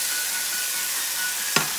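Garlic and ginger hit hot oil in a pan for chicken curry with potatoes and carrots, giving a steady loud hiss of frying with one sharp clack of a utensil near the end.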